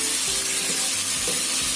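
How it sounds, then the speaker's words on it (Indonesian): Lemongrass sizzles as it is dropped into hot oil in a pan, a steady close crackle with brief stirring scrapes. "tambahkan 3 sendok makan minyak atau secukupnya. Kita masukkan serehnya"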